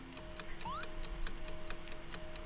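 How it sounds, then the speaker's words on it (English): Ticking from a video game plays as a regular, fairly quiet series of sharp clicks alongside faint electronic tones and background game sounds. "Why are we ticking?"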